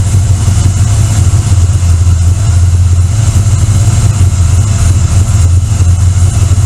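Loud, steady engine idle from a car running lean just after startup, a constant low rumble with an even, unchanging drone, close up and without talk.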